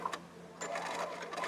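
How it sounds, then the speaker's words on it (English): A sewing machine runs a straight stitch down the center of a fabric book cover, with a brief whir, a short pause, then a steady close mechanical hum of rapid needle strokes. "And I will change back to the other foot and just simply stitch all the way through."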